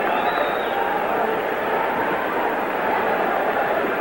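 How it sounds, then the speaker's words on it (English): A dense crowd murmur from a gathering around boxer Muhammad Ali rolls on steadily and loud, a continuous broad roar with no breaks for the whole stretch. "Now you begin to hear the crowd."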